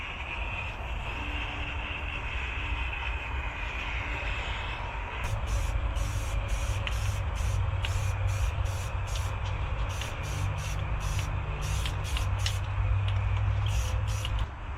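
Metal parts are spray painted outdoors in freezing weather. A low background rumble comes first, then a series of short, sharp hissing spray bursts repeats in quick rhythm, fairly close.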